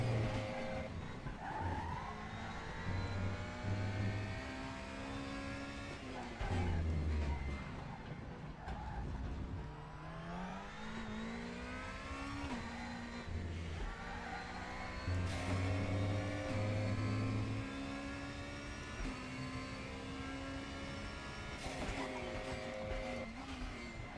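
Four-cylinder race car in the ACC racing game at Imola, its engine revving hard through the gears with rising and falling pitch, gear-change dips and brief tire squeal, loud and continuous throughout.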